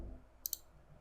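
Two quick, crisp computer mouse clicks in close succession, faint and close against a quiet room background.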